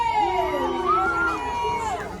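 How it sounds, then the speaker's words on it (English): Tour boat passengers on a Miami celebrity mansion cruise cheer and whoop with shrill, sliding voices over a steady crowd murmur, close and continuous throughout. "let's give a round of applause to the girl from the block, Jennifer Lopez"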